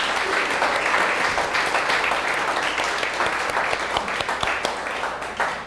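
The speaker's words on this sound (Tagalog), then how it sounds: "bigyan mo nga ng the best na palakpak si Lord" A church congregation applauds loudly during a worship service celebrating God's love. The dense clapping runs steadily for several seconds and fades slightly toward the end.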